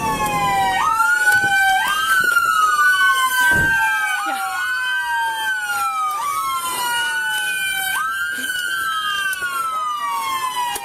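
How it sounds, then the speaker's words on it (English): A police car siren wails loudly and close at a shooting scene on 12th Street, its rising and falling tone repeating in regular cycles for about eleven seconds over faint background noise. "Go turn that siren off."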